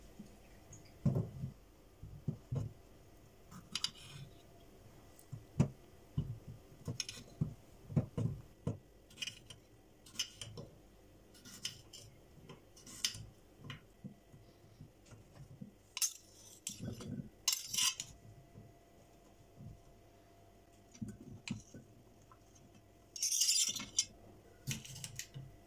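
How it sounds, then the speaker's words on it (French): Bell peppers in three colours are washed and sliced lengthwise, giving a long run of scattered clicks, knife taps, drips and light clatter against a quiet kitchen background. "je vais laver et découper en longueur mes poivrons de 3 couleurs différentes"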